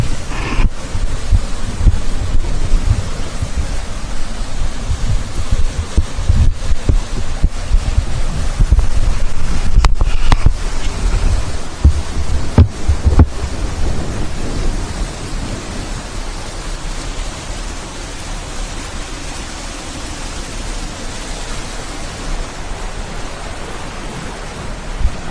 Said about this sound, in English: Look at that water just gushing in there.